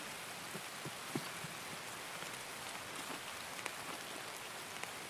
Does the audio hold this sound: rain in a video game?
yes